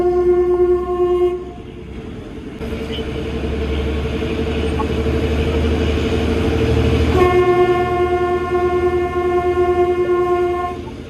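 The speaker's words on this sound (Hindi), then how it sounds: "इस खूबसूरत सी हॉकिंग के साथ और रिदमिक चगिंग के साथ" Kalka–Shimla toy train on its mountain railway, a loud sustained horn blast at the start that returns near the end, with rumbling rhythmic chugging and rolling noise filling the middle.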